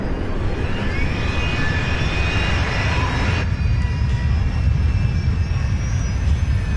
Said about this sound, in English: engine number 4 roars to life